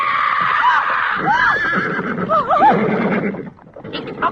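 Horses neighing and whinnying as a sound effect in an old-time radio horror drama, several rising and falling calls over a dense, noisy background bed, fairly loud and close.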